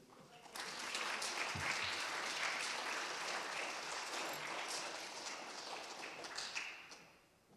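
An audience at a middle school fifth grade DARE graduation gives a sustained round of applause for the honor students, a dense wash of clapping that swells, holds for several seconds and tapers off.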